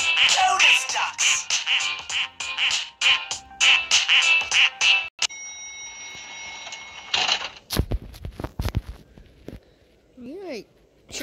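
Cartoonish duck quacks sound in a rapid, loud series inside a Roblox horror game, followed by scattered clicks, thumps and a brief warbling tone.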